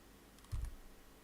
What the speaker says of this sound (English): just using my arrow keys to navigate my way through the particular